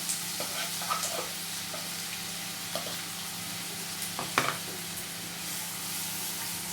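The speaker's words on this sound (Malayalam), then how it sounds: "അപ്പോൾ അതിലേക്ക് ഈ കട്ട് ചെയ്ത് വെച്ചിട്ടുള്ള ഓണിയൻ ഇട്ട് കൊടുക്കുക" Chopped onion frying in about two tablespoons of oil for mushroom masala, a low steady sizzle with occasional soft clicks and scrapes of stirring, close up and with nobody talking.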